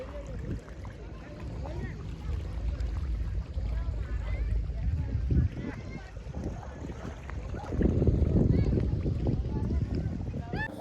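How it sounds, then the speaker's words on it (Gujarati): A speed boat runs on the water at Kotna beach near Vadodara, its engine a steady low rumble with wind and splashing, swelling louder in the last few seconds. "સ્પીડ બોટ હોય છે"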